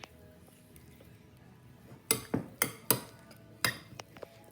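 Barbecue sauce is stirred in a dish, giving a quick cluster of clinking utensil scrapes and taps against the dish over a faint background murmur.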